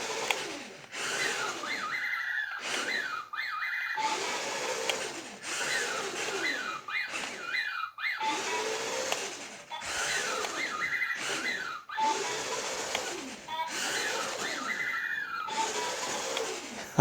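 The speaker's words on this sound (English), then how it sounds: "he makes the other sounds when he's driving around, like that beep, beep, beep, beep noise." A remote control Disney Parks mouse droid from Galaxy's Edge chirps in repeated rising electronic warbles and beeps while it drives around, loud and close, in bursts separated by brief pauses, with no talking.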